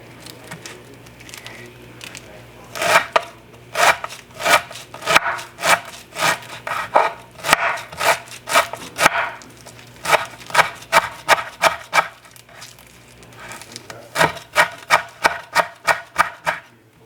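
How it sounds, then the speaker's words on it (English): Knife chopping herbs on a cutting board for tabouli salad, a series of crisp rhythmic strokes in quick bursts with short pauses between runs, close and moderately loud. "I'm just moving the knife to the next chop."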